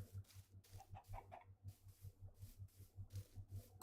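A chicken in the Minecraft video game clucks in a quick repeating series of short, soft bursts, evenly paced and alone with no talk.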